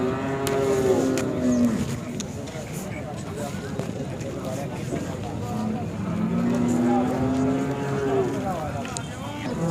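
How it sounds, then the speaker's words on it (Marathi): A Khillar cow at the Sangola cattle market gives two long, loud, low moos a few seconds apart, with people talking and general market bustle in the background. "ही एक खिलार गाय आहे"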